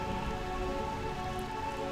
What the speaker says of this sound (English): Burmesia, realm of eternal rain.